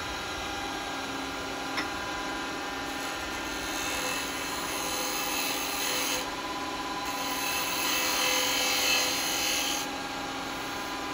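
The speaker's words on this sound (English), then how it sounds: "What I'm going to do to get a nice finish is I'm going to use the detail chisel." A detail chisel cuts a yew bowl spinning on a woodturning lathe, giving a steady droning whir with a continuous rasping shear of the tool against the wood, close and even throughout.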